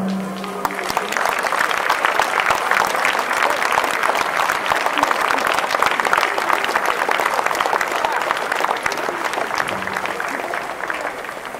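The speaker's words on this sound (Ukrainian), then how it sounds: "Оплески йому." Sustained, dense applause from a ceremony crowd greets battalion commander Anatolii Vynohorodskyi as he receives a medal for the defence of Donbas, steady and loud for about eleven seconds before tapering slightly at the end.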